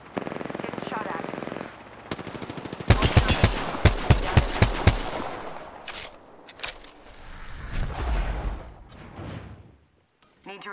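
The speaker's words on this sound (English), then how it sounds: "Getting shot at." Rapid automatic gunfire in the video game Apex Legends, a loud burst of evenly spaced shots followed by more scattered fire and whooshing effects, with talk mixed in among the shots.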